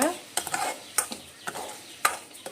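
Millet grains such as foxtail, kodo and little millet being dry-roasted in a pan, with a spatula scraping and stirring in a series of sharp, close strokes over a soft rustling background.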